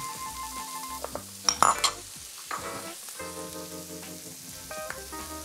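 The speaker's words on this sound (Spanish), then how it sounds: "son los corales de la cabeza del bogavante, que se están medio, medio achicharrando ahí" Lobster head corals with chopped spring onion fry in a pan with a soft, crackling sizzle and a few clinks of a utensil, set against quiet background music.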